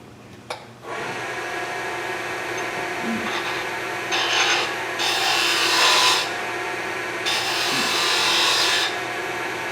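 A wood lathe spins a spindle while a scoop is turned, giving a steady whirring drone punctuated by rasping scraping bursts as the tool bites the wood, close and fairly loud.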